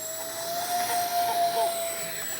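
A Freewing 64mm A-10 Thunderbolt II RC jet with electric ducted fans whines steadily on its takeoff run, a thin high even tone that swells slightly at mid-distance, with no talk over it.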